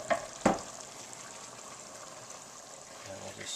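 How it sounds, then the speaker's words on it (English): Vegetables and cherry tomatoes for Bolognese drop into a pan with two quick clatters, then a soft, steady sizzle continues quietly. "add our vegetables back in, as well as some of these gorgeous cherry tomatoes"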